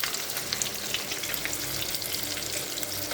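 Fish frying in a little oil in a pan, seasoned with salt and turmeric, gives a steady, dense sizzle with fine crackling throughout, fairly soft and continuous with no talk.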